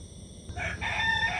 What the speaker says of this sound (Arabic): ديك بعدا راه ما مقصرش معايا